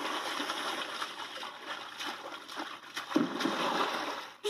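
Water splashes and sloshes repeatedly in a lively, continuous burst of splattering.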